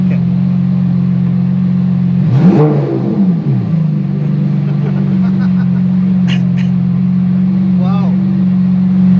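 A Lamborghini SVJ 63 sits idling with a steady low hum, then the engine revs sharply as the accelerator is pressed, a loud rising and falling burst, and settles back to idle with a smaller blip later.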